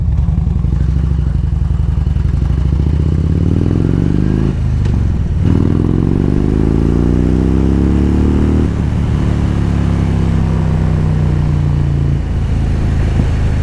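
A motorcycle revs hard and accelerates in second gear, a loud close engine roar climbing in pitch in repeated surges with brief dips as the throttle eases, buffeted by wind.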